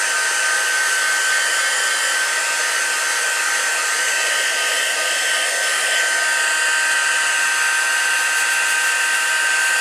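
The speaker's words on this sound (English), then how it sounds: "So, just going to heat set this." A craft heat tool heat-setting stamped ink on a card: a loud, steady, close blowing whir with a constant high whine, running unbroken throughout with no voices.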